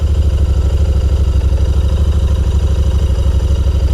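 A Royal Enfield Continental GT 650 motorcycle idles just after starting, with a close, loud, steady low thumping pulse that stays even throughout.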